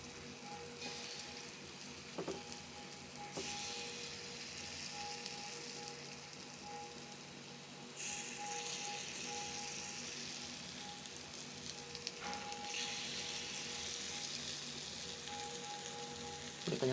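Wheat flour kara paniyaram batter sizzles steadily in a hot pan, a continuous crackling hiss that swells louder partway through, with no talking.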